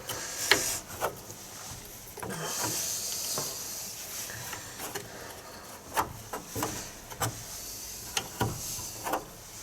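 Wrench work loosening the tensioner on a Dennis Dart bus engine during a water pump replacement: repeated metallic clicks and ratcheting turns over a hissing background, fairly faint.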